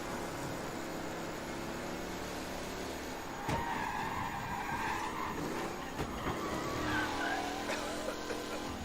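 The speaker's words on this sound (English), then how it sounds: "Officers reporting a race car driving at speed through the city." A race car speeds through a city in the video game Mafia: Definitive Edition on PS4, a steady engine roar with rushing noise and brief skids and clatters, and no talk.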